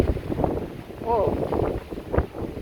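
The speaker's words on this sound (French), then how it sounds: "Très très forte rafale." A very strong wind gust during a high-precipitation supercell thunderstorm, loud rushing and buffeting the microphone throughout, with a brief voice exclamation partway through.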